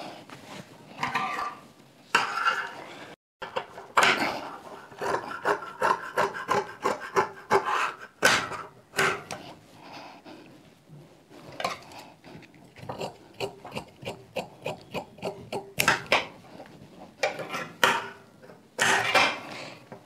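Blouse fabric being cut with scissors: a run of short rasping snips and rubbing strokes, close and fairly quiet, with brief pauses between cuts and no talking.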